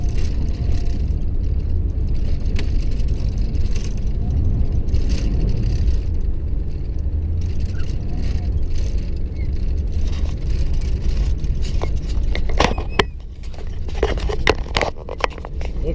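A vehicle engine drones loudly and steadily as wheels spin and scrabble climbing a dirt slope, with rattling, scraping clatter growing near the end.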